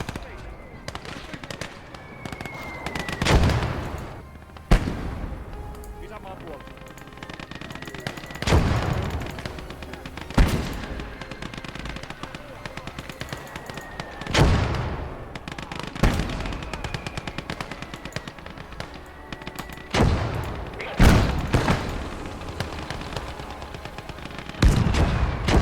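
Heavy tank cannon shots and bursts of gunfire ring out in a video game battle, with loud booming blasts every few seconds over a continuous din of combat; someone talks over it.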